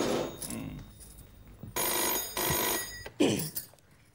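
A household telephone rings indoors in a series of loud, repeated electronic ring bursts, heard close and with no one speaking over them.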